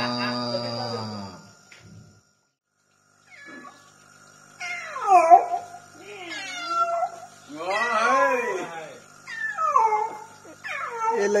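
A voice imitates a cat, producing a series of drawn-out, wavering meows and yowls, loud and close, after a brief sung or spoken phrase at the start.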